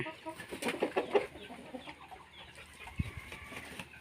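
Rooster and hen kept for breeding fighting cocks, clucking and calling near the coop in a burst of bird sounds early on, then a quieter stretch with a sharp knock near the end.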